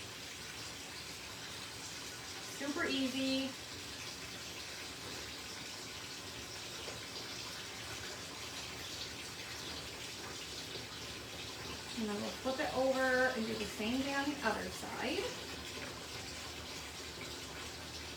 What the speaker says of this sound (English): You'll hear the water for a second.